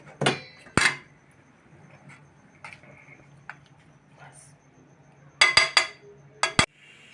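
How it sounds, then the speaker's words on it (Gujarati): A metal spoon clanks and scrapes in a pot of gathiya curry, a Gujarati dish of gram-flour sticks in gravy, with a few sharp clinks at the start and a quick cluster of knocks near the end. Quiet room tone fills the gaps between them. "થોડાક ચમચો મારી દઉં"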